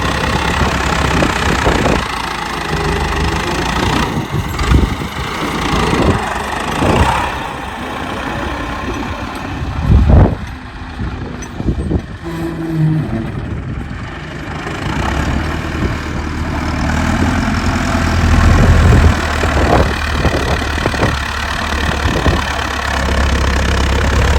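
A tractor engine idles with its trolley attached, a steady low rumble running throughout with a few louder thumps and knocks and some background bustle, no speech.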